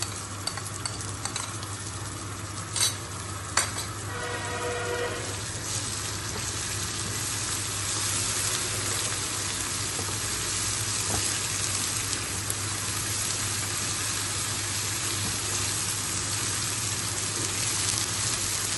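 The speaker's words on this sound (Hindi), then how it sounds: "लहसुन का पेस्ट भी हमारा भून चुका है" Steady sizzling of ginger garlic paste with crushed green chilli frying in a hot pan for mutton gravy, with a few stirring scrapes early on, continuous and close with no talking.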